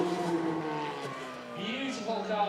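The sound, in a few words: sports car engine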